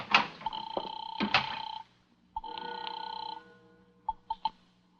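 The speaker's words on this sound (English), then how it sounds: "It's ringing now." An old-style telephone bell rings in two long trilling bursts, clear and fairly close in a quiet room, followed by a few brief clicks and clatters.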